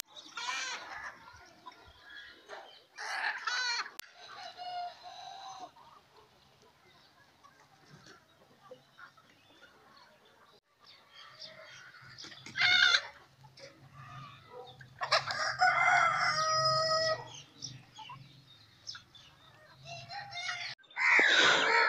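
Chickens at a free-range desi poultry farm cluck and crow in scattered bursts, with a rooster crowing and a goat-like bleat among faint farmyard sounds, some calls near and loud, others quieter.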